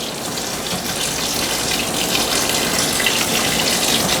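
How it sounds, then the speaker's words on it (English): Steady rush of tap water running through a colander of freshwater mussels into a sink, a continuous near splashing hiss with no pauses. "this also rinses them off any other junk that come out of them. And it rinses all that stuff out and through the colander"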